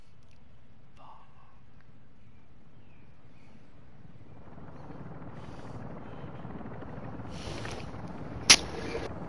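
A low, rumbling helicopter drone in the video game DMZ that swells louder midway, with faint talk and a brief sharp sound near the end.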